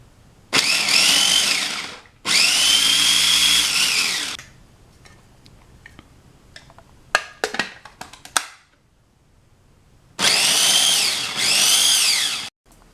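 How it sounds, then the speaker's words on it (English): A small electric mini food chopper whirs loudly in two long bursts chopping red bell pepper, pauses among clicks and clatter, then runs again in two more bursts. "We will put this chopping blade into the little mini chopper."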